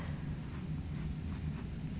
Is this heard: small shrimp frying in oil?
no